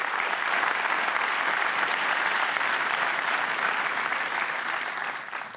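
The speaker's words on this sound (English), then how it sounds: "Now that deserves a round of applause." Steady, full applause from a large audience at a business and entrepreneurship event, continuous and even throughout before easing slightly at the end.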